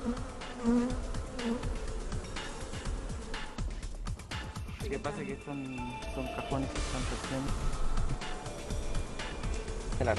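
Honeybees in Chile, tied to urban beekeeping, buzz steadily and densely throughout, with a voice narrating over the insect drone.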